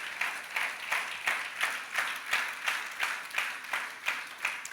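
A church audience during a sermon claps together in a steady, even rhythm of about two claps per second, a room-filling sound with no speech over it.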